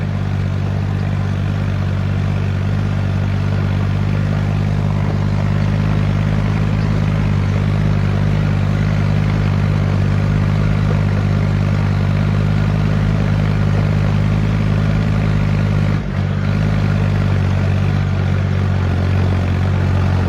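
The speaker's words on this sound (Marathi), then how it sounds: "इथून थोडं ट्रॅक्टर जोरातच न्यावं लागतं, कारण की इथं पुढं थोडं कच्चं आहे" A tractor engine pulling hard up an unpaved dirt slope at night, a loud, steady low rumble with a constant droning hum close by, unbroken for the whole stretch apart from one brief dip.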